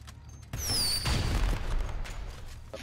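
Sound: fireworks going off in video game GTA Online

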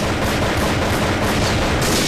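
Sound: sniper rifle gunfire in a mobile FPS video game

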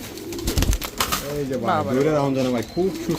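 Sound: Danish pigeons cooing

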